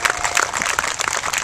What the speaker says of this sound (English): Give them a round of applause for all they're doing.